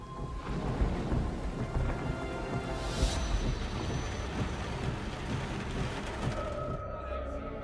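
A thunderstorm rolls in with rumbling thunder over steady heavy rain, a sharp crack of thunder partway through standing out above the continuous downpour.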